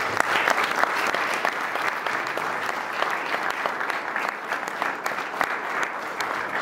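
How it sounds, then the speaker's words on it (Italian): An audience at a talk on the Great War applauds, a steady wash of many hands clapping at moderate loudness with a faint crowd murmur underneath, holding evenly throughout. "un applauso se lo merita dunque"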